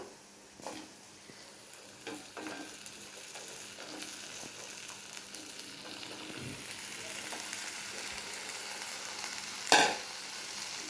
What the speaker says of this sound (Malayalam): അപ്പോൾ ആ വെണ്ടയ്ക്ക ഇട്ട് കൊടുക്കുക.